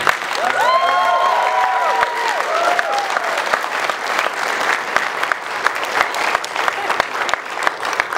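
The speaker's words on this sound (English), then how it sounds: "clap your hands together." Loud, sustained applause from a convention panel audience, dense clapping throughout with a few cheers and whoops near the start.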